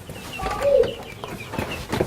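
Two-week-old broiler chickens cluck and peep in a brooder on a farm, a few short calls rising over a soft, busy background of flock noise, with one louder call midway and more near the end.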